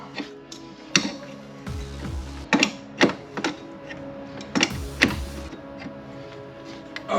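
Metallic clicks and clunks repeat irregularly as a wrench works loose a nut on the air-conditioning receiver-drier of a GM OBS truck, with ratcheting taps and small knocks close by.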